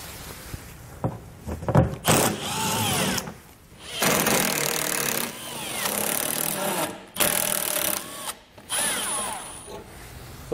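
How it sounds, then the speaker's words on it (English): A power tool drives out Torx fasteners under a 2014 Volkswagen Jetta, its loud close whirring coming in repeated bursts of varying length with short pauses between them. "We're gonna have three in the middle here, which we need to remove using a T30 Torx bit"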